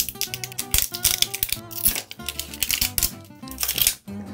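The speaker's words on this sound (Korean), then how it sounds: "무지막지하게 뜯어봅시다." Plastic wrapping being torn open on BT21 Universtar blind-pack collectible figure boxes, a loud, close series of crinkling rips and rustles in quick irregular bursts.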